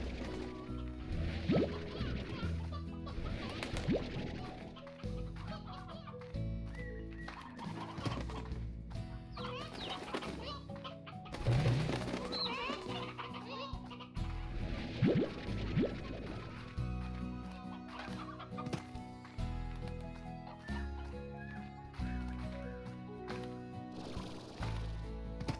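Chickens cluck in the Slime Rancher game world amid steady background music, with several short clucks and squawks scattered across the scene at moderate loudness.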